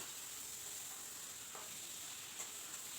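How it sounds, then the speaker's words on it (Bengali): Rice and lentils sautéing with chicken in a pan, a steady soft sizzle and hiss with faint stirring scrapes, no voices. "এবার চাল আর ডালটা দিয়ে মাংসের সঙ্গে বেশ কিছুক্ষণ কষিয়ে নেব"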